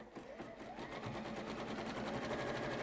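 A sewing machine zigzag-stitching through fabric, running in a steady fast rhythmic whir close by, with a faint voice briefly in the background.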